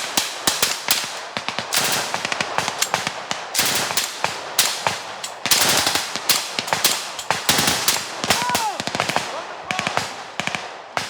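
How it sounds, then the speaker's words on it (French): French Foreign Legion firefight in the Amazon rainforest, sustained loud gunfire with rapid automatic bursts and scattered single shots cracking continuously, some voices faintly underneath. "Après quelques minutes de tir nourri"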